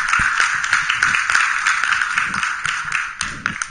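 An audience at an academic panel on sustainable human development claps in steady applause, dense overlapping hand claps at close range with no talk over it.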